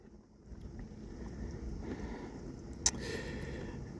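High winds blowing outside during a storm-caused power outage, a steady low rushing roar that builds gradually, with one sharp brief knock partway through and no voices.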